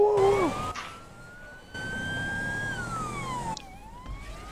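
An ambulance siren in the GTA 5 video game wails in long rising and falling sweeps, loud and close, with a brief burst of other game noise near the start.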